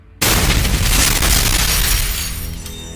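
A bomb explodes inside a building with a sudden loud boom and a broad crash of shattering glass, then a long roaring decay, with no talking.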